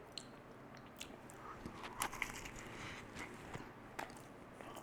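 Someone bites into a crunchy air-fried sausage roll filled with bubbling cheese, giving faint, close crunches and soft chewing sounds with a few sharper bites scattered through, without any talking.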